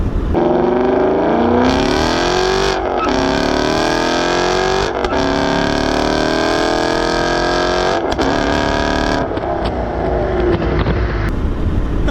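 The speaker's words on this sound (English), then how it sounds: "Oh, this car sounds so good." A 2016 Ford Mustang GT V8 with a Corsa exhaust revs hard and accelerates, loud and close, its pitch climbing through several gear changes with brief dips between pulls.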